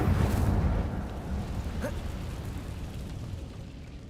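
The Incendio fire spell is cast in Hogwarts Legacy with a loud whooshing burst of flame that fades into a softer rumbling crackle over a few seconds.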